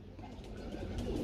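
A pigeon held in the hand gives a short, low, throaty coo close by, soft and continuous, with no talking.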